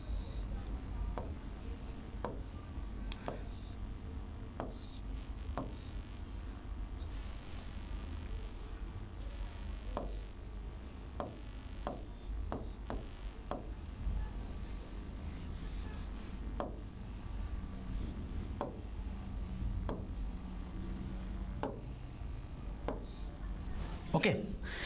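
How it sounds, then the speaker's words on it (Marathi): Marker or chalk scratches on a classroom board while a bolt is sketched, a scattered series of short faint strokes and taps under a lecturer's speech in a quiet room. "मी काय करतो, एक इमेज तुम्हाला इथं ड्रॉ करून दाखवतो"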